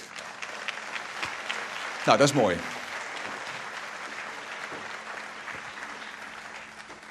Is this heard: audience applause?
yes